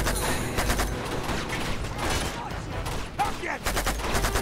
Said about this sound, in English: there's like loads of people shooting